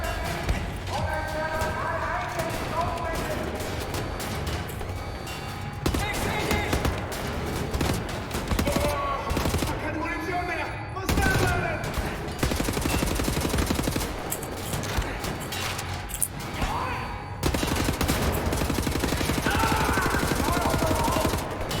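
Bursts of rapid gunfire from shooting enemies near a tank in Wolfenstein: The New Order, loud volleys broken by short pauses, with someone talking over parts of it.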